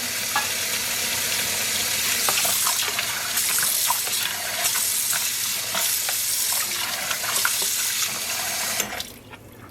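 Water pours steadily from a tap with splashing and sloshing as dyed yarn is washed in a sink, continuous and close, ending abruptly.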